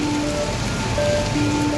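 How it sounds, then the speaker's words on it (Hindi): Heavy rain pours in an animated cartoon scene of a mountain flood rescue, where a tow truck struggles in mud. The downpour is a steady, dense hiss throughout, with faint sustained tones underneath. "भीषण बारिश और कीचड़ के बीच हादसा"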